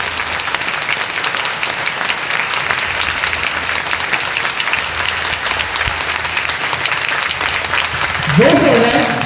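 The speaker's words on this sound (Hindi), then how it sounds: "एक बार जोरदार ताली हो जाए" Audience at a manifestation retreat in Delhi breaking into loud, sustained applause that fills the whole clip, with a voice and a brief pitched sound rising over the clapping near the end.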